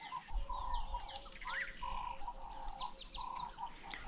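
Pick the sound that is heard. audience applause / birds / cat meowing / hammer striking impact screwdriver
birds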